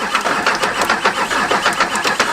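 A battle-damaged Hummer engine cranks over with odd mechanical noises, a steady rhythmic chugging of the starter that keeps pulsing without catching for the whole stretch, fairly loud and close, with no one talking.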